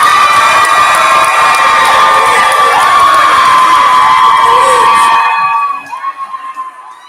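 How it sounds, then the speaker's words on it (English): A large crowd at Newberry cheers for a player committing to Ohio State, a loud, sustained roar of shouts and high-pitched screams that suddenly drops off, leaving scattered fading voices. "what a reaction from the crowd there at Newberry"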